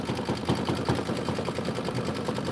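An embroidery machine stitches out a quilt block in a steady, fast mechanical rhythm of needle strikes over a constant motor hum, close and continuous with no voices.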